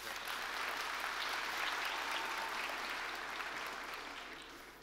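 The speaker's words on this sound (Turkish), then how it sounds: "Bence bir alkış hak ediyor." An audience at an international STEM education summit applauds, a dense, even wash of clapping that swells, holds and then slowly fades, with no talking over it.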